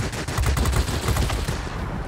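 Rapid aircraft cannon fire from 23mm and 20mm guns in the World of Warplanes air-combat game, a dense, loud, continuous burst of shots for about two seconds with no talk.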